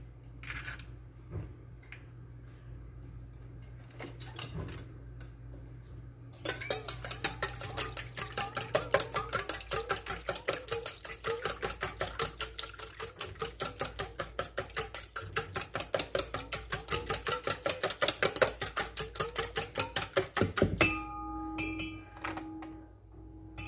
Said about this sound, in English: is get our 2 eggs and whisk them.